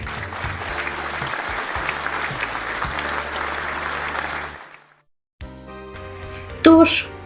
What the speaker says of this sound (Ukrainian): глядачі проводжають акторів гучними оплесками.